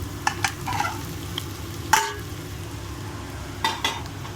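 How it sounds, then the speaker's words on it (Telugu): Egg fried rice stirred in a hot pan sizzles and fries steadily, with a few sharp scrapes and clinks of the utensil against the pan, close and fairly loud with no talking. "ఇప్పుడు ఈ రైస్ మొత్తం వేసేద్దామండి ఇందులో"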